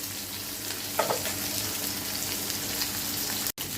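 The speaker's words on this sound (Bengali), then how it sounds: "এটা মচমচে করে ভাজবো" Chapila sea fish frying in oil over moderate heat, a steady close crackling sizzle with a brief stirring clatter early on and a sharp cut just before the end.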